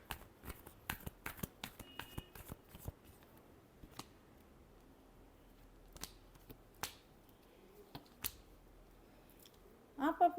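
Tarot cards being shuffled, a quiet run of quick crisp riffles and taps that come in bursts and then thin out into scattered single snaps, close and faint.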